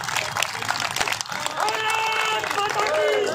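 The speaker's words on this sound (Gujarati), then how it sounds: "તો આપણે તાળીઓથી એકવાર વધાવીએ આપણે માને." Audience applause breaks out at a 77th Republic Day gathering of ex-servicemen in Jamnagar honouring a martyr's mother: a dense, sustained clapping wash with voices and tonal sounds mixed in toward the end.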